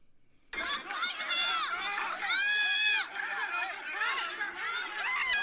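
Street celebration crowd in Chicago: a dense mass of shouting, cheering and chatter with excited whoops rising over it, loud and continuous after a sudden start.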